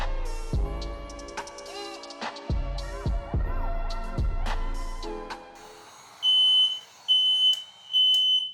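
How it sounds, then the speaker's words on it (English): Music plays with heavy beats, then fades as a smoke alarm begins loud, shrill, repeated beeping in long pulses nearby. "my fire alarm went off"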